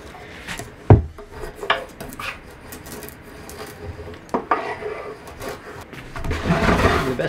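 Brittle old veneer on reclaimed doors cracking as a mitred plinth is fitted: scattered sharp cracks and creaks, with one louder snap early on and a rougher rubbing crackle toward the end.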